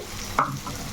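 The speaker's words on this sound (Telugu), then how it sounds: "దాంట్లో ఉల్లిపాయలు మనకి వేగుతున్నాయి కదండి" Onions fry in a pan for gongura chicken curry, a soft, steady sizzle with a single quick scrape of stirring near the middle.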